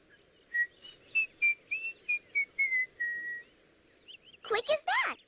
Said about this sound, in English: I just whistle, like so.